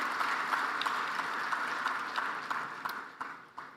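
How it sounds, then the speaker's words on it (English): A large audience at the Mission 300 Africa Energy Summit applauds for the President of the United Arab Emirates, a dense, steady wash of clapping that holds strong and slowly thins toward the end, with no voices over it. "Can we give him a big round of applause?"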